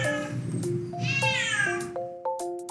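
A cat meows in the video game Minecraft, a clear drawn-out meow rising over soft plucked background music notes, with no talking.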